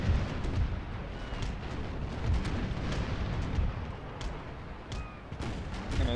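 Ship cannons fire in a Napoleon: Total War naval battle, a rumbling barrage of deep booms and thuds rolling together with a few sharper cracks standing out, steady and heavy throughout, no talk.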